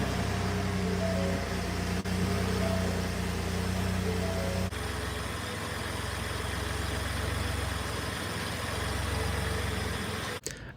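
Car engine idling steadily and close after an oil change following a timing chain replacement, a continuous even hum with a slight change in tone partway through and a brief click near the end.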